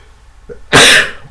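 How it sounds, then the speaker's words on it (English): A single sharp sneeze after a pinch of coarse dry snuff, preceded by a quick inhaled catch, loud and close with a breathy burst that trails off. "so there were 2 more sneezes after the 2 that you saw"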